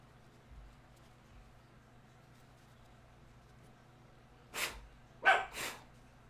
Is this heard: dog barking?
yes